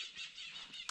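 Birds sing outdoors at dawn around a wild campsite in a cemetery, giving a faint, continuous high twittering and chirping with one sharper call near the end.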